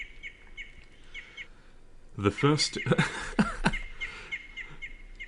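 Bird chirps in the wilderness of the Skinwalker video game, heard as light repeated tweets in short clusters, faint in the background; someone talks over them midway.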